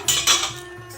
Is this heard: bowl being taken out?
yes